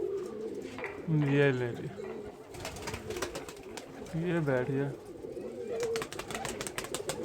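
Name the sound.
pigeons on a net after release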